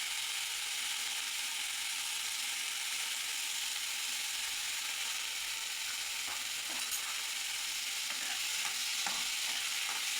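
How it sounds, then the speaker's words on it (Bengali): Noodles with capsicum frying in a pan in very little oil, stirred steadily with a continuous sizzle and scraping clicks, loud and close with no talking. "একটু নাড়াচাড়া করে দিচ্ছি।"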